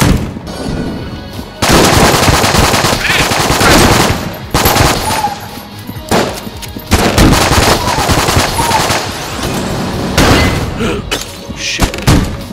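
A burst-fire gun in the video game Enter the Gungeon fires in loud rapid volleys, dense cracking bursts and booms repeating in clusters with brief gaps between them.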